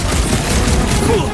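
Dense gunfire rattles through a firefight beside a ship's reactor in the Marvel's Guardians of the Galaxy video game, a continuous loud barrage with booming impacts.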